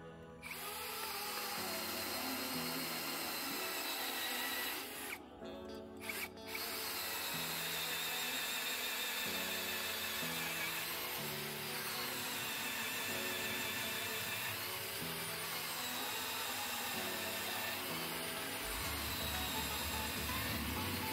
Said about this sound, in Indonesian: Di sini saya menggunakan mata bor auger 19 mm di kecepatan nomor 1 dan modenya adalah mode drilling